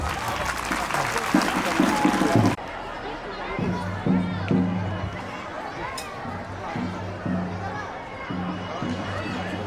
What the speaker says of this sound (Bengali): আমরা এই দুজন অতিথির জন্য আমরা একটা জোরে করতালি দিতে চাই।